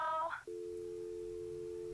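A phone call in a Nancy Drew video game ends with a short burst of tones, followed by a steady, unbroken telephone hang-up tone that runs to the end.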